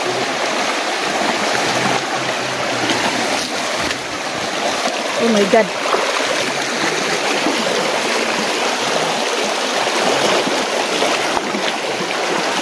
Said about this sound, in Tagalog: hindi nga pala masyado malakas po yung agos po ngayon